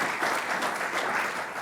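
Audience applause for lightning talk speakers at a UK-US space collaboration symposium, a steady, dense wash of clapping from a full room that carries evenly through the short stretch with no voices.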